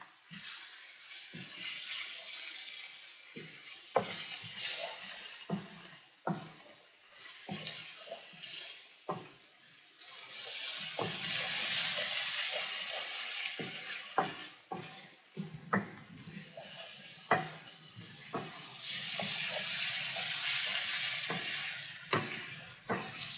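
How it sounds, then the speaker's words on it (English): Minced garlic, a tablespoon of it, sizzles and crackles in a pan with a steady hiss, broken by the clink and scrape of stirring, close up with no talking. "We're just going to cook this just a minute until our garlic gets fragrant."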